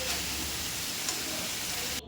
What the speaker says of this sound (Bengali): ইঁচড়টা ভালোভাবে কষিয়ে নিচ্ছি।